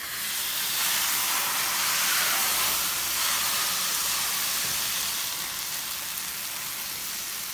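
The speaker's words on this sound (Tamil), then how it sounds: "இதை வந்து தோசைக்கல்லில் நம்ம ஊற்றுவோங்க" Rava dosa batter poured onto a hot griddle gives a steady, close, fairly loud sizzling hiss that holds evenly throughout with no talking.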